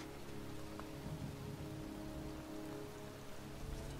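Pouring rain falls steadily on surfaces in a cemetery in the video game Heavy Rain, a dense, even hiss heard faintly and continuously with no talk.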